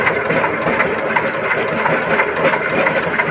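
An engine being turned over, with a steady mechanical whir and a faint knocking noise from inside, suspected of a worn crank bearing; close and continuous with a slight rhythmic pulse.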